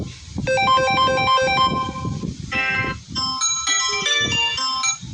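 A mobile phone rings with a bright, repeating melodic ringtone that plays loud and close for the whole stretch, its tune shifting pattern partway through with background noise underneath.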